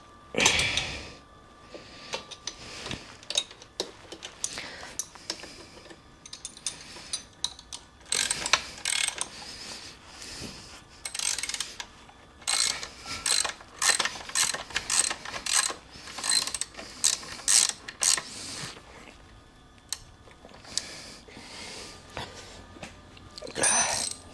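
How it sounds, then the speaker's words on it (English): A hand ratchet working bolts loose on a Lifan 140cc pit bike engine, heard in repeated close, crisp clicking bursts separated by short pauses and shop handling noises. "Take the top bolt out."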